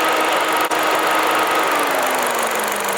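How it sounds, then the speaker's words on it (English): A steady, loud whirring hum from the radiator cooling fan of a 2009 Ford Fiesta 1.6, broadband and constant with a slight drifting tone, close by and uninterrupted. "The radiator fan has cut in to cool the hot coolant before it returns back to the engine."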